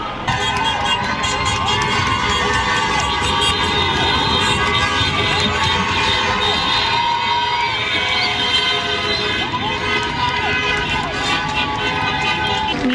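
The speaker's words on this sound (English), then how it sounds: "Cheering, cowbells, and honking of horns could be heard in the Upper East Side and in Midtown" Street celebration in New York's Upper East Side and Midtown, with crowd cheering, rattling cowbells and honking car horns blending into a loud, continuous outdoor din, along with wailing siren-like tones.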